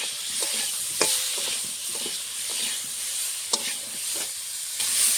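Cauliflower fries in a pan with turmeric and salt, a steady close sizzle broken by a few sharp scrapes and knocks of a spatula being stirred through it, with no voices.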